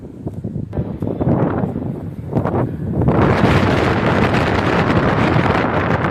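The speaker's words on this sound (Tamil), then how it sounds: "காற்று ரொம்ப அடிக்குது." Strong wind buffets the microphone on the beach beside Kollam lighthouse in Kerala, a loud, continuous roaring rush that swells and gusts throughout with no voices over it.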